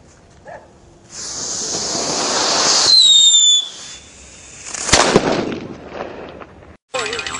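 Spanish fireworks and firecrackers fizzing and hissing as they launch, a whistling shriek, then a sharp bang with crackling, followed by more hissing; close and loud.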